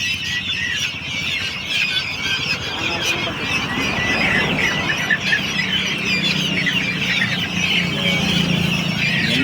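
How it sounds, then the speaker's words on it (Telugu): A mixed flock of poultry, guinea fowl among black chickens and chicks, calls together in a farm setting, a dense steady chorus of squawking, clucking and shrill chattering that carries on loud throughout with voices talking over it. "ఇవన్నీ గిన్నె కోళ్ళే"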